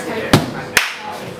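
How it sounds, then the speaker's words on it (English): Two sharp, separate stomps of feet on a stage floor, loud and close, with a low room murmur and a faint voice between them. "that's why I'm stomping"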